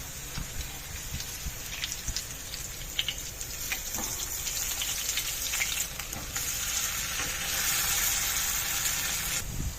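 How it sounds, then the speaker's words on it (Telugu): Veg fish fry pieces crackle in a pan over a low flame, a dense, continuous sizzle that holds close and steady throughout, with the occasional scrape as pieces are shifted. "స్టవ్ ఫ్లేమ్ సిమ్లోనే పెట్టి ఫ్రై చేయాలి."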